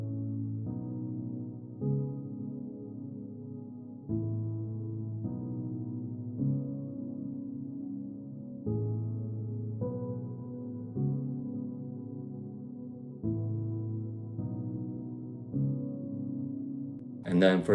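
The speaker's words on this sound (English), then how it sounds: "So I added this piano." Soft, low piano chords in a sad song, struck roughly every two seconds in a slow, steady rhythm and left to ring, quiet and alone.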